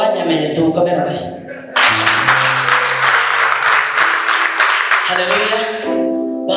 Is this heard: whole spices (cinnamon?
no